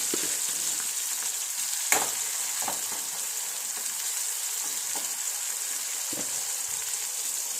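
Ivy gourd (kovakka) frying in oil gives a continuous close hiss and bubble, with occasional sharper pops and soft stirring scrapes over the steady sizzle.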